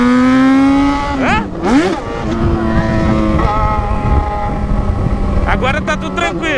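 Yamaha XJ6 motorcycle engine while riding, loud and close, its revs climbing and dropping through gear changes with a brief surge near the end, under people talking.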